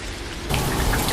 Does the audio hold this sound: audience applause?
no